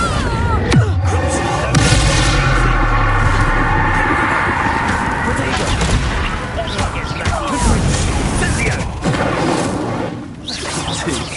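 A loud Bombarda spell blast in Hogwarts Legacy, a booming explosion with crashing debris and whooshes amid dense game combat effects, while a voice speaks over it.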